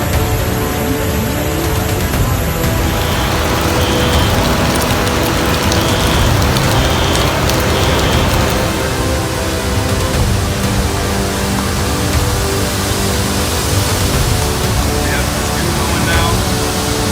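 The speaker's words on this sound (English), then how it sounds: "The relentless rain turned to catastrophe in an instant." Heavy, relentless rain pours down during a flood, a dense, loud and unbroken roar of water that holds steady throughout.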